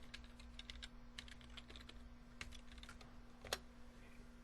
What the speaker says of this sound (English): typing the name of our variable